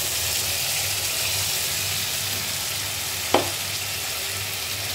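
Spinach and coriander paste stirred in a hot frying pan gives a steady, close sizzle with soft scraping, and one sharp tap of the spoon against the pan near the end.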